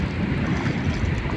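Strong sea waves around a small fishing boat, a loud dense rush of water and wind noise pressing steadily on the microphone throughout a brief moment.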